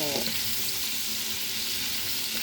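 Shrimp are sautéed in a frying pan for ginisang hipon, a loud, steady sizzle close up, with a brief stirring scrape at the start.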